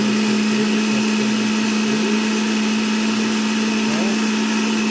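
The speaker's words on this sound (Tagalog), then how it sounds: "I will turn on the blender now." An Ice Master blender runs indoors with a loud, steady motor whine and drone that never lets up for the whole stretch.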